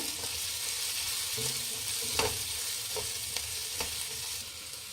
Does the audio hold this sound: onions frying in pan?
yes